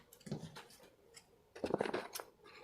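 Leather yarn being trimmed about 0.3 cm on each side, with a couple of short, soft snips and light handling rustle at close range, quiet overall.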